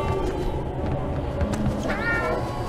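In the horror game Zoonomaly, cats meow in a string of drawn-out, wavering cries over a busy background of game noise, loud and close throughout.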